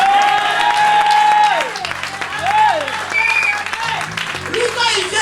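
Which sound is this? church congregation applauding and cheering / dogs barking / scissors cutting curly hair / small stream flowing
church congregation applauding and cheering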